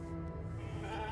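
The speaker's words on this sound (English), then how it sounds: "Can I pet the sheep?" A sheep in The Alters video game lets out a single drawn-out, wavering bleat, close and clear over a low background hum.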